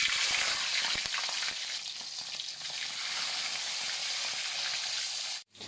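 Kabibe fish fry in hot oil, a steady, dense sizzle heard close up and fairly quiet, continuing evenly with no talk before cutting off abruptly at the end.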